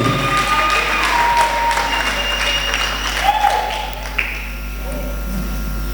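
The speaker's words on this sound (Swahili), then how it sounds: "Makofi, makofi." An audience at a church women's marriage teaching session applauds, a loud, dense burst of many hands clapping together that carries on steadily and then thins slightly toward the end.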